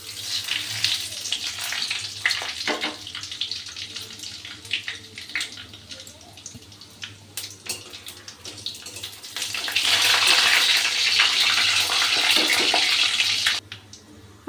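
Dried red chillies and bay leaves hitting hot white oil for a khichuri tempering, a steady hissing sizzle that swells louder near the end before cutting off abruptly.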